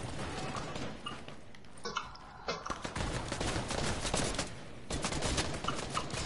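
Rapid gunfire in a Save the World–style co-op shooter video game, dense and continuous bursts crackling for several seconds, loud and close with a brief lull partway through.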